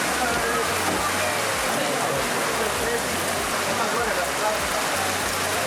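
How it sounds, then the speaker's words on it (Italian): Heavy rain pours down on a street in Sarajevo, a dense, steady hiss of drops on surfaces with a low rhythmic rumble beneath, continuous throughout, with faint voices now and then. "in poco tempo inizia a piovere davvero forte"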